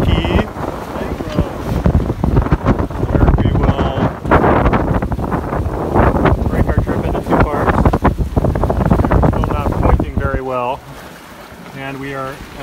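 Strong wind roars and buffets the microphone aboard a Corsair 24 trimaran sailing upwind in open water, loud and continuous, with water wash beneath and a brief voice-like tone near the end.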